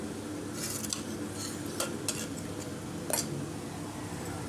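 Salt is stirred into spinach dal in a pot, soft wet stirring under a faint background hum, punctuated by a few brief metallic spoon clinks against the vessel.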